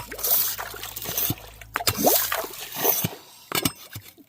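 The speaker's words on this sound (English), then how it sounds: "the water's obviously flowing" Creek water trickling and splashing over bedrock in a shallow stream, soft intermittent gurgles and drips close by, with faint scattered movement noises.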